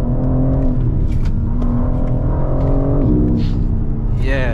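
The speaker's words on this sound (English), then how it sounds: "the gear shift sound crazy" A BMW M4 G82 with a ZF gearbox pulls hard from inside the cabin, a loud steady engine roar with rising tones and quick shift changes, with a voice briefly under it.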